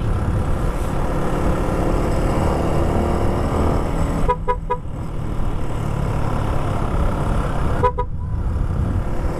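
A vehicle rumbles loudly and continuously while its horn gives two short, sharp toots several seconds apart.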